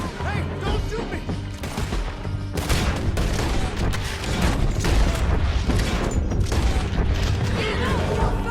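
Sustained gunfire in Red Dead Redemption 2: dense, overlapping shots and booming bursts that keep going for several seconds, loud and close, with clattering mechanical noise and shouting voices mixed in.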